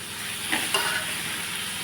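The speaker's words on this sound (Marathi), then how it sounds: "तो ठेचा घालून याला मी आता फक्त दोन ते तीन मिनटं परतवते" Green chili thecha, a coarse ground paste of green chillies, sautéing in a pan with a soft steady sizzle and a few faint stirring scrapes near the middle, close and fairly quiet, no talking.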